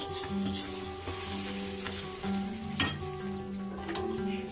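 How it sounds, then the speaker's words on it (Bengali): Puffed rice is stirred slowly into melted jaggery in a pan over a low gas flame. Soft, continuous scraping and light sizzling run close by, with one sharp knock partway through. "আস্তে আস্তে করে খইগুলো আমি গুড়ের মধ্যে মেশাতে থাকবো আর নাড়তে থাকবো"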